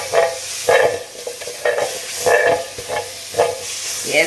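Butter sizzling and spitting in a hot pan before cooking steak, a steady broad hiss with repeated bubbling bursts and pops throughout, close and fairly loud, with no voices.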